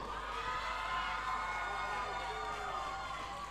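Arena crowd at a boys' school basketball consolation final cheering for the AIS team, a dense continuous roar of voices and shouts filling the hall at steady loudness.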